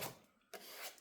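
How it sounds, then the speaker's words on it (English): A plastic card, like an old gift or credit card, scrapes paint across a paper page in two short rasping strokes with a brief pause between, close and fairly quiet. "then you just scrape the paint over the page"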